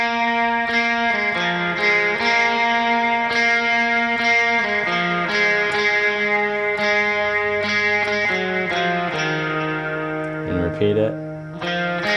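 Electric guitar playing a worship-song riff through effects such as distortion and chorus, sustained chords and notes ringing continuously and loudly with no talking throughout.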